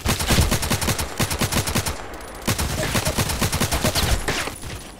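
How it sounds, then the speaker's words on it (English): Rapid automatic gunfire bursts in the online shooter Contract Wars, loud and close, with rhythmic shot trains broken by a short pause before firing resumes. "I know I was shooting in the air"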